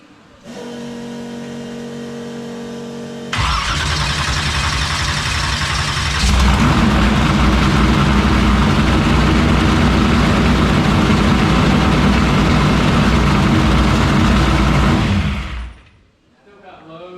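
A 1976 Vega drag car with a newly fitted engine cranks over, catches and settles into a loud, rough, steady idle close by, then cuts off near the end.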